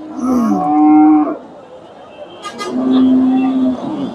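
A Friesian bull at a busy cattle market gives two loud, drawn-out moos close by, each lasting about a second, with a brief gap of crowd noise in between.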